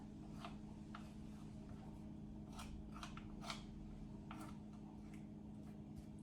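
A utensil scrapes oat biscuit mixture in a bowl, giving a run of soft, quiet, irregular scraping strokes close by over a low background hum.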